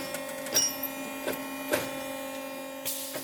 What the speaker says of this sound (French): sur la machine qui est derrière vous, en fait, on part d'une pièce de bois. Ensuite, on va la percer et en simultané, on va venir implanter les fibres touffe par touffe